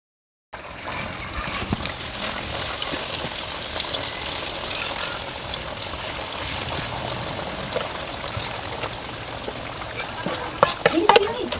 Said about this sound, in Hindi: और फिर उसी तेल में ये सारे मसाले डाल दिए गए हैं। अब इन मसालों को पकाना है